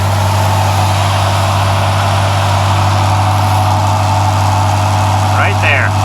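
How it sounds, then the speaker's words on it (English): A rusty Eldorado Biarritz G30 van idles on a cool day with an exhaust leak, giving a steady low rumble and hum throughout, with a brief faint sound near the end. "Why is it leaking exhaust?"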